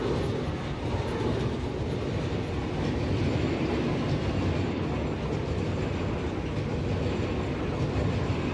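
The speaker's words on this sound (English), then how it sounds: "I keep forgetting how loud these trains are for you guys." Loud, steady rumble of trains running in the factory-building game Satisfactory, a dense continuous roar with faint rhythmic clatter throughout and no voices.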